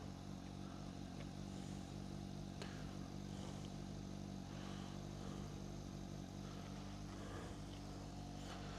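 A Suzuki GSX750S motorcycle engine idles quietly and steadily, a soft continuous low hum with faint mechanical clatter, close by and with no talking.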